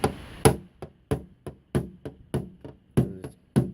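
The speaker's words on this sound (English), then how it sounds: "we're going to go ahead and tamp this down a little bit here." Hammer taps tamping down the driver's rear quarter panel of a 2003 Cadillac CTS during a body repair, about nine sharp metallic knocks in a steady rhythm, close and fairly loud, with no talking.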